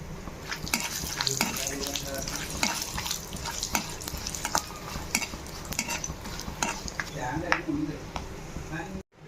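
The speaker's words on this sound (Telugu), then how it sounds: "దాల్చిన చెక్క అనస్ పువ్వు లవంగాలను కూడా వేసుకొని కొంచెం ఫ్రై చేసుకుని పక్కన పెట్టేసుకోవాలి" Cinnamon, star anise and cloves fry in a pan, a continuous close crackling sizzle with scraping and stirring clatter of a utensil against metal throughout, while a voice talks over it.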